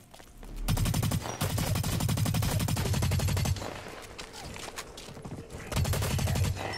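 Video game gunfire in rapid automatic bursts, loud and close, with a pause in the middle and a final burst near the end.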